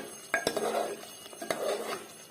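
A utensil stirs spinach egg curry in a pot, making two distinct metallic clanks against the pot, each followed by a soft scraping swirl, close and fairly clear.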